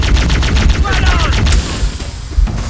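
Rapid bursts of gunfire from Halo: Combat Evolved crackle in a dense, loud fusillade, with repeated shots in quick succession and game voices speaking over the battle.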